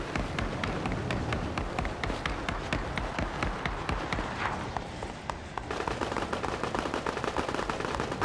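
Gunshots in Fortnite rattle off in rapid repeated bursts, a busy stream of sharp cracks over steady game background noise, loud and continuous without speech.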